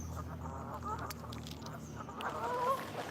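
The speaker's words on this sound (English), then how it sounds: "got some bird action behind me" Geese or similar waterfowl honk faintly in the distance outdoors at sunset, with a few scattered calls over a low hum of background noise.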